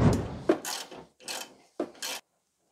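Three nuts being tightened to hold a hydraulic cooler in place on a BMW E31 850i: short rasping, ratchet-like bursts of metal on metal in uneven spurts, close up, then silence.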